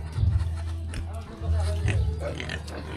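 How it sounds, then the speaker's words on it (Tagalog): Pig on a Filipino family farm oinking in low grunts, a few short bursts close by under a person talking. "May baboy din dito mga man."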